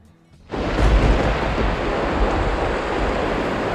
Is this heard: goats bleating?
no